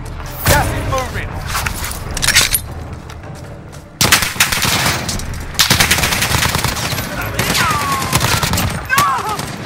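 Gunfire in Call of Duty Warzone, repeated loud bursts of automatic fire and sharp shots in rapid succession, close and intense, with voices calling out among the shooting.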